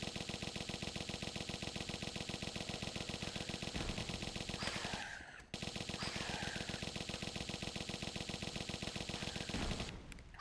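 Automatic gunfire from the video game Tomb Raider 1 Remastered rattles on almost without pause, loud rapid bursts filling the whole stretch with one short break midway.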